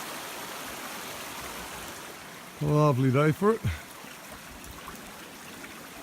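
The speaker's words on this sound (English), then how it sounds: "So we're now down at the river." A river on a lovely day flows in a steady broadband rush throughout, heard nearby, with someone briefly speaking over it midway.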